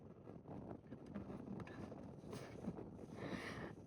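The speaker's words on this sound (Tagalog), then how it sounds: "Buti na lang may breeze. Medyo mahangin." Steady breezy wind blows outdoors as a constant, moderately loud rush with no clear gusts or pauses.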